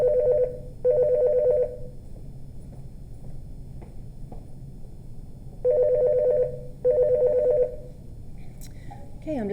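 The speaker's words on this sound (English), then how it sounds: "I'm getting a phone call, I'll just call them back." A telephone rings with an incoming call, giving two pairs of short, bright double-burst trills separated by a pause, heard up close over a quiet room hum.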